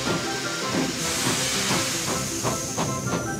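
A steam locomotive hisses loudly while rhythmic chuffs and clanks build as it departs, with no voices.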